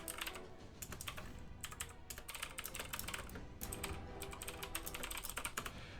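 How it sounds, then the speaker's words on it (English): Rapid, steady typing on a computer keyboard during a North American esports tournament broadcast, dense clattering keystrokes running continuously and fairly close, with no voices over it. "sorry for the typing noises as we are settling those issues"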